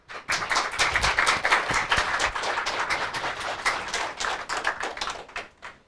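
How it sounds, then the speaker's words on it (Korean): An audience claps steadily in a Buddhist temple hall, welcoming a guest lecturer to an open dharma talk. The dense, even applause lasts about six seconds and fades out near the end. "장기풍 선생님을 뜨거운 박수로 맞아주시기 바랍니다"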